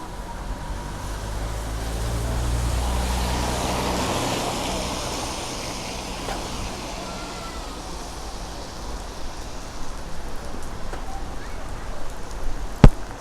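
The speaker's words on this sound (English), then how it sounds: "That is Medjugorje in the rain." Steady rain falls in Medjugorje near St. James Church, a dense, even hiss of drops on surfaces that swells early and eases slightly, with a few sharper knocks near the end and no voices.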